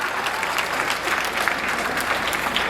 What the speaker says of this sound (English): You better clap to that.